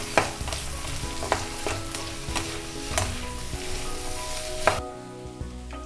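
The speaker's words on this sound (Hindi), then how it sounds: "अब इन सब चीज़ों को भी हल्का सा हम फ्राई करेंगे" Yellow and green capsicum with corn frying lightly in a pan, a continuous close sizzle with sharp spatula scrapes every second or so, no voices present.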